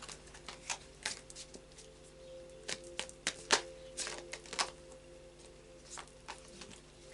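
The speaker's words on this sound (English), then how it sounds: "So we'll just do a final shuffle of the Tarot of Dreams." A Tarot of Dreams deck is shuffled by hand, giving soft, irregular card flicks and taps, some sharper than others, close and quiet over a low background hum.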